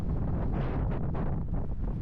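Strong wind roars over the Zandvoort beachfront, buffeting the microphone with a constant loud, rough rush and no talk.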